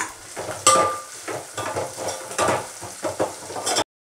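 Ginger garlic paste with green chillies fries in oil, a soft sizzle broken by spoon stirs and metallic clinks against the pan, close by, ending abruptly.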